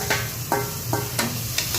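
Chopped tomatoes and onions sizzle steadily in a pan, broken by a few regular stirring scrapes about every half second, close and clear.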